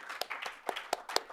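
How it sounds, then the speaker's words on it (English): A small tech meetup audience claps briefly, a sparse scattering of distinct individual handclaps with a few sharper, louder claps standing out, heard fairly close. "So let's give them another round of applause."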